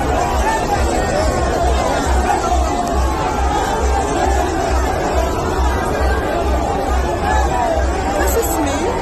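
A large stadium crowd in Kano fills the air with dense, continuous chatter and babble, loud and close, with occasional faint cheers rising out of the hubbub.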